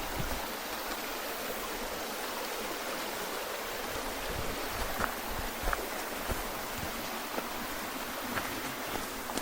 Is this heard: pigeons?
no